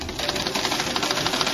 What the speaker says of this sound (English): What we do is we just sew one side here.